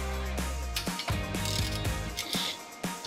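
A half-inch breaker bar loosens a 17 mm bolt on the rear brakes of a 2014 Toyota RAV4. Close, repeated ratcheting clicks and metallic creaks come in short, uneven bursts.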